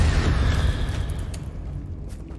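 A Confringo spell detonating in Hogwarts Legacy, a loud, close, deep boom that rumbles and fades over a couple of seconds.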